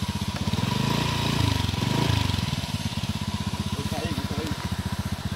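A motorcycle engine chugs and labors on a rough road near Dipolog City, a steady pulsing rumble throughout, swelling louder midway before settling back into an even throb.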